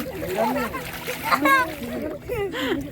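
Water splashing at a reservoir outing near Maithon Dam, lively and close, with excited voices of adults and a child chattering over it throughout.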